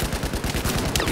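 Dense automatic gunfire laying down suppression in a Battlefield 4 hardcore deathmatch on the Locker map, a rapid unbroken stream of loud, close shots filling the whole moment.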